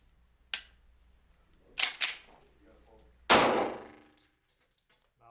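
A Glock 36 pistol test firing, with a sharp, loud report followed by a ringing tail, preceded by a few metallic clicks and clacks of handling, with brief speech.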